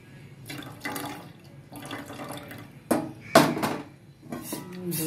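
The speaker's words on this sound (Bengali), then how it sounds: "আমি এর মধ্যে দুধটা মিশিয়ে দিচ্ছি" Milk is poured into a pot of hot water heating for tea, giving intermittent splashing and liquid pouring with a few sharper clinks of a vessel, moderately loud and close.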